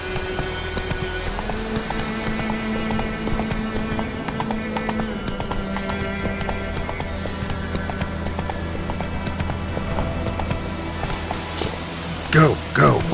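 A horse in The Witcher 3 Wild Hunt, mobile version, clops along in a steady hoofbeat rhythm over sustained game music, with a couple of louder sharp hits near the end.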